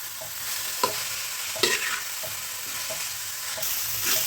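Dried chilies and greens being stirred together in a hot pan, a constant frying sizzle broken by a few sharp scrapes and taps of a spatula, close and without talk.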